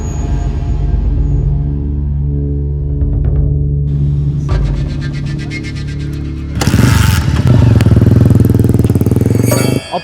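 A motorcycle engine runs close by, idling with a steady low rumble before rising into louder revving bursts in the second half, loud and alone without talk.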